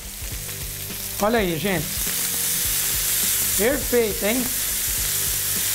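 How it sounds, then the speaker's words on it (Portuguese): Bananas frying in a pan over medium heat for banana rice, a steady close sizzle running throughout while a person speaks briefly over it twice. "Coloca e termina de fritar o restante das bananas."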